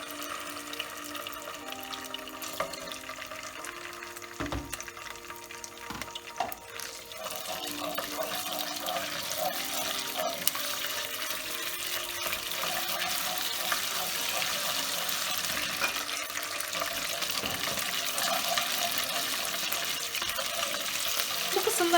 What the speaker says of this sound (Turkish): biraz su eklemenizi tavsiye edeceğim